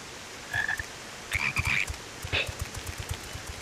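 Toads in Final Fantasy XIV croak in a few short, chirpy bursts with pauses between them, set against a low game ambience, and no one speaks over them.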